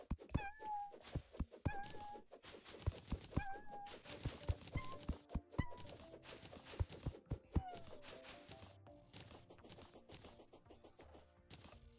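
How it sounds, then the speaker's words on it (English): A cat meows repeatedly in the game Terraria, each short tonal cry rising and falling over a dense background of game sounds and clatter. "Cat noise."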